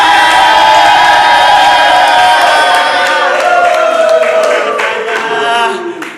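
A loud party crowd at a Sweet 17 birthday celebration claps and cheers continuously in a dense, sustained roar that fades slightly toward the end.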